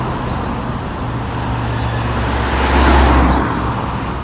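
A busy intersection in Los Angeles neighborhoods, heavy traffic rumble as cars and a large vehicle roll past, swelling to a louder close pass partway through, no speech.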